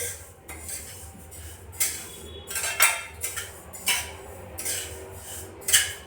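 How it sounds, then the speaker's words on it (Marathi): Sesame seeds are dry-roasted in a pan, heard as a series of metallic scrapes and clinks from stirring against the pan at an irregular rhythm. "पाच सात मिनटं छान असे तीळ भाजून घ्यायचे"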